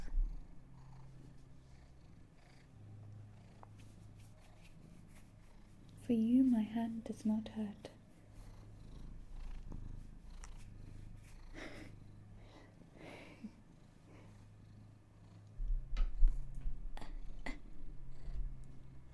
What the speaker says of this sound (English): Do you want to purr for people?